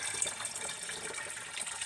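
Water poured from a clip-on kitchen gadget into a pot, a quiet continuous trickling splash lasting under two seconds with no talking.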